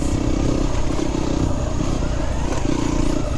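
Yamaha WR250R dual-sport motorcycle ridden over a rough dirt path, its engine droning steadily up close with rattling clatter and wind rumble throughout.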